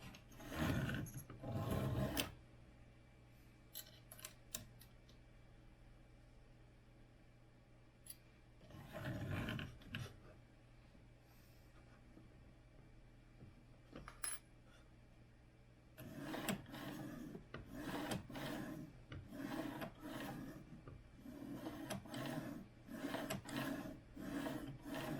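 Mechanical scraping and rubbing while the platform of a Voron V0 3D printer is raised and lowered and its screws slowly tightened, coming in a short burst, a second burst, then a longer busy stretch of close grinding handling noise.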